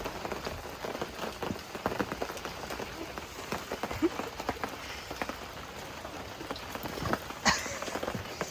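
Cold rain falls steadily outdoors with dense patter and scattered louder drops close to the microphone, continuing throughout without speech.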